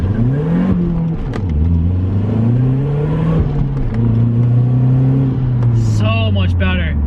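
Car launching hard from a stop after a rear motor mount install, the engine revving up with a rising then steady harmonic drone, wheel spin, and a person talking over the loud, close engine noise.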